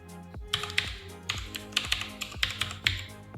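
Rapid keystrokes on a computer keyboard, entering a URL in a web browser, come as irregular bursts of close, crisp taps with short pauses, no talking.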